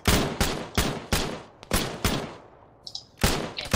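Rapid bursts of gunfire in a military video game, roughly eight loud, sharp shots in an uneven rhythm with short gaps, close and dominant, with no voices.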